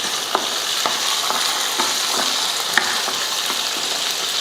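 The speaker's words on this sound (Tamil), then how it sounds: "அந்த புளி சேர்த்துடலாம் சேர்த்துட்டு நல்லா வதக்கிடுவோம்" Shallots, garlic and tamarind sauté loudly in a hot pan for a chutney, a steady sizzle broken by regular spoon strokes against the pan about every half second, close and alone without speech.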